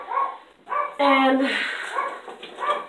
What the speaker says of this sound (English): so sorry for the dog barking.